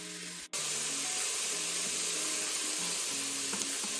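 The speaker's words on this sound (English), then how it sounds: "I'm going to cook this mirepoix mixture, which is carrots, onion, and celery, for about 5 minutes" Carrots, onion and celery sizzle gently in a pan while cooking down, a soft, steady frying hiss that runs continuously at low volume, broken by a short gap near the start.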